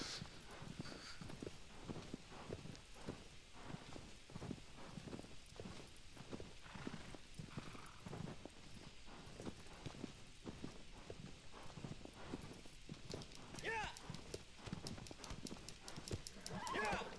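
Steady, rhythmic clip-clop of a horse's hooves galloping across a field in the video game Shadow of the Colossus, with a brief whinny, continuing beneath quiet talk.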